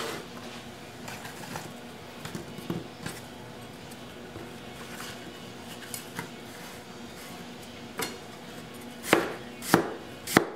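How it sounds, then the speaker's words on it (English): A knife slicing through two stacked apple quarters on a cutting board, giving soft, fairly regular taps that grow into a few louder, sharper chops near the end. "I'm going to take two quarters together and get slices no more than a quarter of an inch thick"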